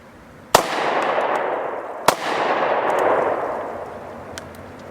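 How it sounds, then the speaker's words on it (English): Two sharp gunshots ring out about one and a half seconds apart from a Double Tap Defense tactical pocket pistol fitted with a .45 barrel. Each crack is loud and close, followed by a long echoing decay outdoors. "you just seen us shoot the Double Tap Defense 9mm barrel and the 45 barrel"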